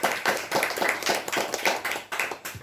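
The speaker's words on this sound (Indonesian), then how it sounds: "Terima kasih tepuk tangan bagi bertiga" Rhythmic clapping from a small audience at a talk on the history and etymology of wayang kulit shadow puppetry, applauding three speakers, with hands striking in an even, lively beat, close and alone without voices.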